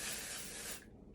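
Dry shampoo aerosol sprayed onto the roots of dry hair: one steady, close hissing burst that cuts off abruptly, leaving faint room noise.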